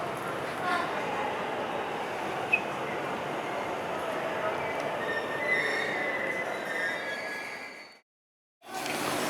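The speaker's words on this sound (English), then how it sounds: "My train's here." A train pulls into a station in Japan with a steady loud rumble and a high squeal from the wheels, then it suddenly drops to silence before some noise comes back briefly.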